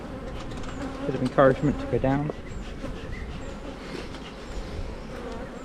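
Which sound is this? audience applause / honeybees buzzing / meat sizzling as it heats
honeybees buzzing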